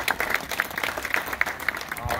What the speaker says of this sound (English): Let's give Isham a big round of applause.